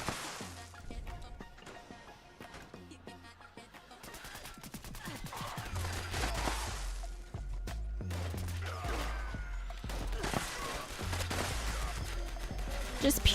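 Rapid automatic gunfire with exploding rounds in Fallout 76, a hex-barrel gatling weapon firing in dense bursts with bangs and crashes, building louder toward the end over a backing music track.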